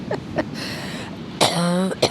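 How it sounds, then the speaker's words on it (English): A person coughs, with a couple of small throat sounds first and then one longer, strained, rasping cough near the end, close to the microphone. "Making me cough."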